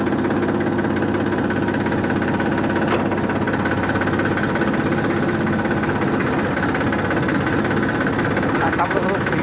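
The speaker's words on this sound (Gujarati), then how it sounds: "ટ્રેક્ટરને થોડુંક ચલાવીને પણ તમને બતાવી દઈએ કે કેવું છે." A 2020 tractor engine runs steadily at close range, a constant low throbbing drone with a faint knocking texture that fills the whole stretch without a break.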